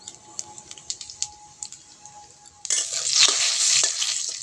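Whole cumin seeds land in hot oil in a wok, and a sudden loud sizzle rises and holds steady. Quiet clicks and small kitchen sounds come before it.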